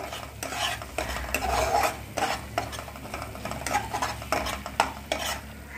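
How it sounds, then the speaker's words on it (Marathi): Masala paste with oil separating is sautéed in a pan, with repeated spoon strokes scraping and stirring in an uneven rhythm over a soft, quiet sizzle. "व्यवस्थित परतून घ्यावा एकदा।"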